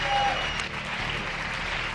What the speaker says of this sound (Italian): un applauso anche a lei